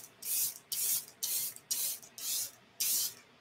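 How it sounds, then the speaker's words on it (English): Charlotte Tilbury Airbrush Flawless Setting Spray hisses out in six quick, even pumps of fine mist, each a short close burst with brief gaps between. "I'm going to use the Charlotte Tilbury Airbrush Flawless Setting Spray."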